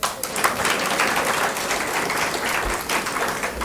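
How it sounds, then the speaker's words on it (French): Audience applause at a press award launch ceremony in Côte d'Ivoire: a dense, even wash of many hands clapping at moderate distance, sustained without talk for several seconds. "Applaudissez."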